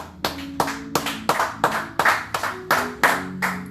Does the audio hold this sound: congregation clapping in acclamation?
yes